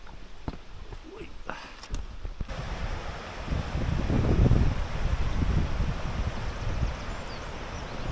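Rushing water of the Roztoka mountain creek, a steady broadband roar that swells after the first few seconds, with wind buffeting the microphone and a few faint footsteps or handling noises at the start.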